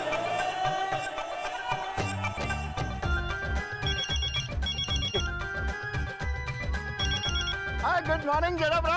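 A telephone ringtone chirps in bursts over a busy music-and-voice bed in a family sitcom home scene, with speech and crowd noise around it.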